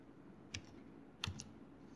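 Two short bursts of typing on a computer keyboard, one at about half a second and a quicker cluster a moment later, faint and close against a quiet room hum.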